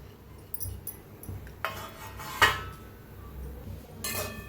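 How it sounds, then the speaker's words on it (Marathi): Semolina (rava) dry-roasting in a hot kadhai without oil, heard as a few sparse metallic scrapes and clinks of a spoon against the pan over a quiet background. "रवा छान असं हलवून भाजूया पहिला असंच भाजायचं"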